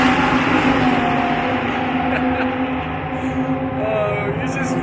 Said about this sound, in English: you just forget throughout the winter how loud these cars are